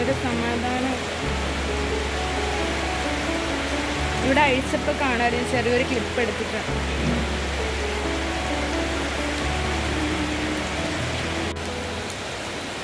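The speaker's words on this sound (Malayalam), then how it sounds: "ഗായ്സ് ഭയങ്കര മഴ ഇവിടെ" Heavy rain pours down steadily and loudly outdoors, a dense continuous roar throughout, with a person speaking over it for part of the time.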